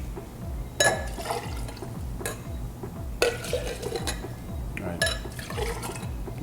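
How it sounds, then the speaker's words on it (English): Guava rum cocktail with Mount Gay rum being mixed: liquid sloshes and rolls between vessels, with several sharp clinks of glass and metal breaking through a steady gurgling background. "Now I'm gonna mix this together now."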